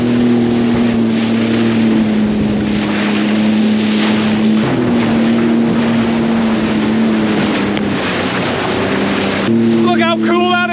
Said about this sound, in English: Now the wind smashing against this boat and coming back off it is creating massive swells.